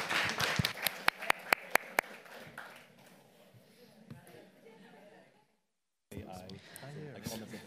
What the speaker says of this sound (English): I invite you, all of you, to a round of applause for Dr. Pau Alsina